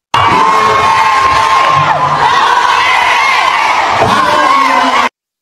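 A large crowd of Duterte supporters in Dubai shouting and cheering loudly and continuously, voices overlapping in a dense roar that cuts off abruptly at the end.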